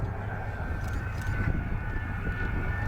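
An Avro Vulcan bomber flies slowly past at the RAF Cosford airshow, keeping station with two small aircraft, its engines a steady, rumbling roar that hangs overhead at some distance.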